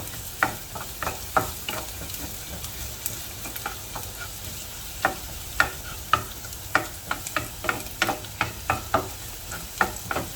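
Garlic sizzles steadily in hot oil over medium heat for clams, while a utensil stirs and scrapes the pan in repeated sharp clicks and taps, close and even, with no talking.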